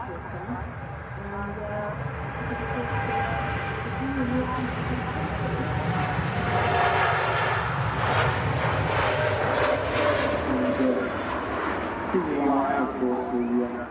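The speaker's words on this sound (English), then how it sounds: "Very, very smooth takeoff there from the TUI Dreamliner, and a big wing flex as well" A TUI Boeing 787 Dreamliner, heavily loaded, roars through its takeoff at a distance, its engine rumble swelling and holding steady, with people chatting over it.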